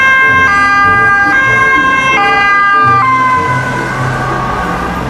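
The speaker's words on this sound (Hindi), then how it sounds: "वाओ सुपर एम्बुलेंस, ओहो हो ये देखो तमन।" A toy ambulance siren wails in loud stepped two-tone cycles close by, its pitch falling at the end as it fades slightly.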